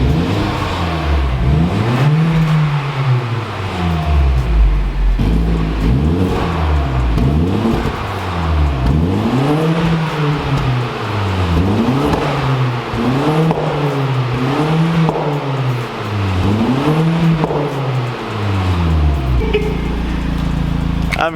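A Genesis car with a newly installed exhaust revs repeatedly, each rev rising and falling in a rumbling wave, roughly a dozen in a steady rhythm, loud and close, with occasional talk over it.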